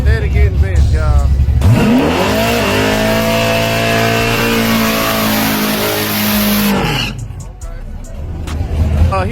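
A Mustang drag racing car engine revs up sharply and holds a high, aggressive roar for several seconds before cutting off, with crowd noise around it.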